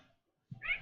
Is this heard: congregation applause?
no